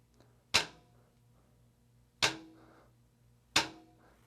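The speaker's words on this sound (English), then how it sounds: "That's when both sticks hit the head at exactly the same time, and they really cancel each other out." A flat flam struck on a snare drum head, both sticks landing together as one sharp crack; three isolated hits spaced over a couple of seconds each, close and loud with short ringing decay, no talking.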